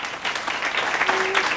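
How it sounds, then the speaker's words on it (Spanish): Applause from a crowd at the inauguration of a roadside kiosk at the entrance to San Luis Talpa, El Salvador, dense continuous clapping at close range throughout. "Un fuerte aplauso,"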